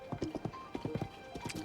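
Horse hooves clip-clop at a quick, steady trot in the video game Zelda: Tears of the Kingdom, with close, evenly spaced footfalls and no talk over them.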